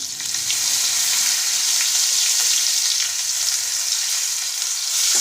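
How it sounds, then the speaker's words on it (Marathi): Curry leaves, turmeric and asafoetida fry in hot oil for a bitter gourd dish. The sizzle is loud, close and continuous, a steady crackling hiss with no voices. "थोडं फ्राय होऊ द्यावं लागणार त्याला कढीपत्त्याला"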